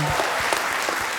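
Audience applause for a duet on a Gujarati stage show, a dense burst of clapping from a crowd, loud and close, lasting about a second.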